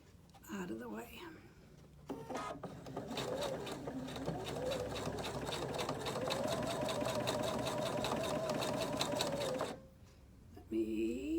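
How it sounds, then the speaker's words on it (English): Sewing machine running steadily for about seven seconds, stitching close to the edge of a cork card holder with rapid rhythmic needle strokes, preceded and followed by brief talk. "I'm going to sew this just close to the edge, about 1/8 of an inch away"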